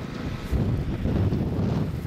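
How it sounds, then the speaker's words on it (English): Strong wind buffets the microphone in a steady low roar, gusting heavier partway through. "It's really windy."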